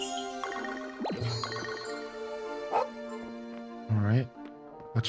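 A small dog in the farming game Grand Bazaar gives a few short, bright barks and yips, then a whimpering whine, all close and clear over light game music.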